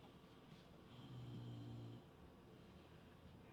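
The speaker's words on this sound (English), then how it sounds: "Every time I do videos, he's right there snoring along." A dog snores softly nearby in a quiet room, one drawn-out rumbling breath swelling in the middle of the stretch and fading again.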